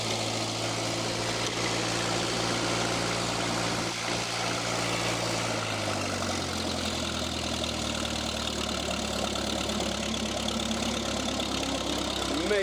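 A small engine without a governor runs steadily and fairly loudly, its droning pitch sliding upward partway through as it revs up on its own and stays high.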